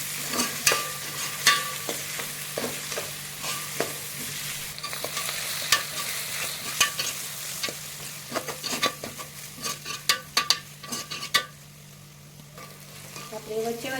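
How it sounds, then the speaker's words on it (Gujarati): Cabbage and chopped vegetables for Mumbai-style pav bhaji stirred and roasted in a pan, a steady sizzle under repeated scraping strokes of a spoon against the metal, close and moderately loud, with no talking. "બધું મિક્સ કરીશું। 2 મિનિટ જેવું શેકવાનું।"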